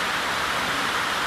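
Steady, dense hiss of heavy rain beating down at the Public Education Centre, constant and loud with no pauses.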